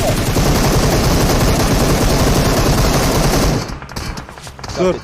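Rapid automatic gunfire in a PUBG Mobile battle royale match, loud and sustained bursts for several seconds before dropping to sparser shots and a final short burst, with a voice faintly underneath.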